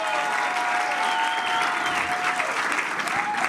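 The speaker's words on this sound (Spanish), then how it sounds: "un aplauso fuerte" Loud, steady applause from a live comedy show audience, dense clapping that fills the whole stretch without a break, with some faint crowd voices mixed in.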